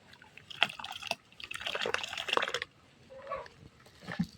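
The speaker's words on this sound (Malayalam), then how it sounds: "വെള്ളം ഒഴിക്കുകയാണ്." Water splashes and trickles into a container of laundry liquid mixture in short irregular bursts, with a steadier pour in the middle and a few drips near the end.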